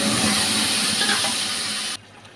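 Vegetables hitting hot oil with a dense, loud hiss of sizzling frying in a Bengali home kitchen, steady for about two seconds before dropping abruptly to a quieter simmer.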